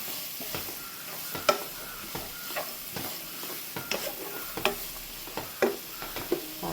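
Onions and vegetables frying in a pan for samosa filling, stirred with repeated scraping clicks of a spoon over a soft, continuous sizzle, close up and without speech.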